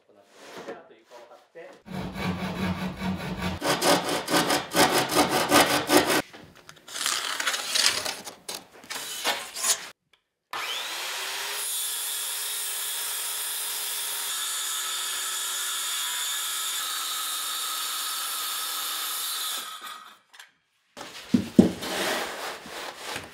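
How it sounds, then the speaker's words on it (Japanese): A handsaw cuts plywood pieces to fit an irregular wall during a flooring job, with stretches of steady back-and-forth rasping strokes, a long continuous cut with a faint whine, and pauses of handling and clatter between, close and fairly loud. "壁の形が複雑な部分は形に合わせて合板を細かく切っていく必要がある。"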